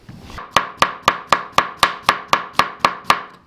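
A knife finely chopping purple cabbage on a board for a potato salad, ten crisp, evenly spaced chops at a steady rhythm, close and clear with no talk.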